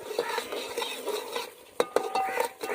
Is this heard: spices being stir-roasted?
yes